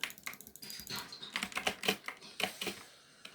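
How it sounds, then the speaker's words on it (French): Close computer keyboard typing comes in quick bursts of clicky keystrokes, pausing briefly between flurries, with no voices. "si vous entendez encore mon clavier, c'est normal"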